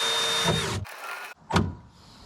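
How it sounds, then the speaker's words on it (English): A power drill whirs in a short burst that winds down, falls silent briefly, then gives one more quick spin, close and fairly loud. "it's just a case of me drilling a couple of holes"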